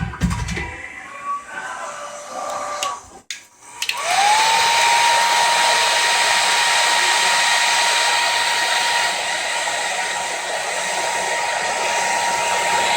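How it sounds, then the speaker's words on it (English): A heat gun shrinks protective tubing over a tattoo machine coil core, starting after a few seconds of handling noise and then holding a loud, steady blowing whine with a clear sustained tone until the end. "Put my heat gun on it."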